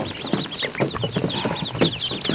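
Newly hatched ducklings peep in a barn, making a busy chorus of high, rapid, overlapping chirps close by, mixed with soft rustling and scratching, with no voices.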